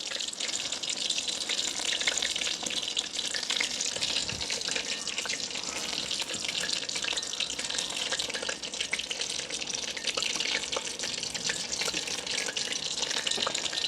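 Mushrooms frying in oil in a village kitchen, a continuous bright sizzling hiss that stays loud and steady throughout, with no talking.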